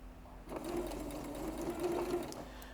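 A sewing machine runs a lengthened stitch in a steady whirring drone that stays close and continuous throughout, without any voice over it.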